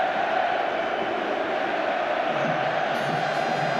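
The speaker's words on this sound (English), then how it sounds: "When the crowd get going like this, the Bernabeu is a real theatre." A large football crowd roars at the Bernabeu stadium during a Spain versus England friendly, a dense, continuous wall of loud noise holding steady without a break.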